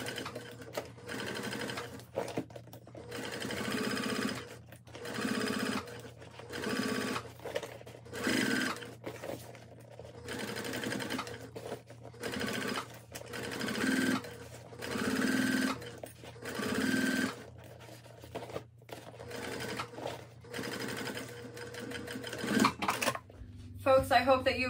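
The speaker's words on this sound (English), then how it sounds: "I'm just gonna slowly top stitch around the top of the bag." Sewing machine top stitching around the top of a tote bag with a 1/8 inch seam allowance, running in repeated short bursts of rapid mechanical whirring separated by brief pauses.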